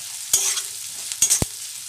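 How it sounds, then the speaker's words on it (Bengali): A spatula scrapes and stirs turmeric and chaat masala through a hot pan for thukpa, giving a soft background sizzle broken by three short, sharp stirring scrapes. "দিয়ে নেড়ে মিশিয়ে নিচ্ছি।"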